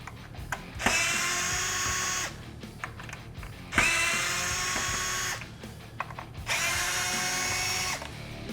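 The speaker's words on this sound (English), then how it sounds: "To remove the bracket, we just need to take off these 3 Phillips screws." Power drill backing out three Phillips screws from a Jeep Wrangler JL taillight bracket, three whirring bursts of a couple of seconds each separated by pauses with clicks and handling noise, close and clear.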